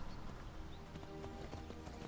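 Horse hooves clip-clopping at a gallop in the video game Skyrim, a steady rhythmic pounding over a dense game soundscape, continuous and fairly close with no talk.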